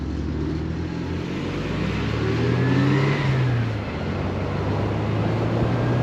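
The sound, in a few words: Porsche 924S engine accelerating on mountain road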